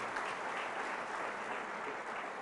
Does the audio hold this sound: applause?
yes